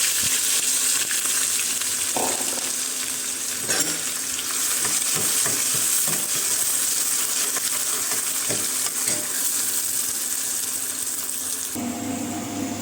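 Onions sizzle in hot oil with cumin seeds, a steady loud frying hiss with occasional clinks of a spoon against the pan, no voices.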